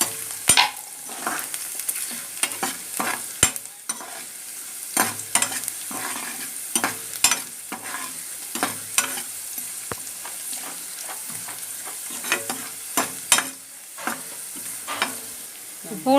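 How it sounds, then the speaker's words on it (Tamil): Finely chopped garlic frying in a pan for Tamil poondu kulambu, a steady close sizzle broken by repeated scraping stirs at an uneven rhythm, with no talking. "கொஞ்சம் பொடியாக கட் பண்ணி வச்சுருக்க பூண்டு போட்டுக்கலாம். பூண்டு கொஞ்சம் வதங்கட்டும்."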